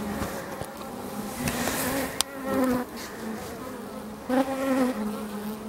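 Honeybees buzz in a dense, continuous drone close to an opened hive during a mid-August inspection, with tones rising and falling as individual bees fly near.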